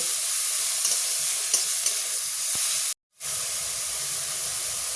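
Drumstick flowers fry in a pan with shrimp, onion, garlic, nigella and green chilli, giving a bright, even hiss with a few faint stirring taps and a brief silent gap before the sizzle resumes.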